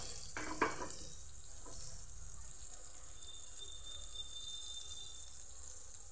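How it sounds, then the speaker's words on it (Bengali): Butter melting on a tawa griddle for a chicken sandwich, giving a steady, low hiss of sizzling throughout, with a couple of brief clatters near the start. "আমি দিয়ে দিলাম বাটারটা একটু গলতে দেব।"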